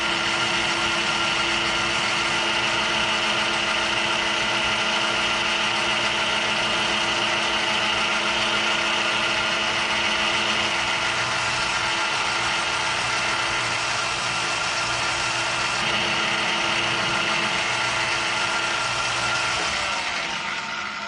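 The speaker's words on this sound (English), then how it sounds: "I've got the lathe on its second to the highest speed." Metal lathe running at its second-highest speed while turning a handle pivot for a Bridgeport mill power drawbar, a steady loud mechanical whine and hum with stable harmonic tones, continuous for the whole stretch with no voices.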